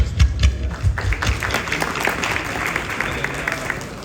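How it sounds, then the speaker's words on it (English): Applause from an audience at a community law enforcement society event for the mayor, a dense wash of clapping with a few heavier claps near the start, steady and moderately loud throughout. "So round of applause for Mr. Mayor"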